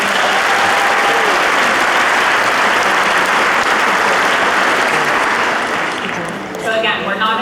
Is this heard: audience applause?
yes